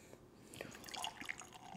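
Peanut butter and honey golden ale being poured at close range, with a soft, irregular trickle and splash of liquid over about two seconds and no talking.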